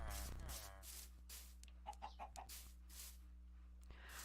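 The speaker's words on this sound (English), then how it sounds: "Are they all running away like sensible chickens?" Chickens in a video game give a few soft, brief clucks in quick succession at mid distance, faint against a steady low ambient hum, with a short thump near the start.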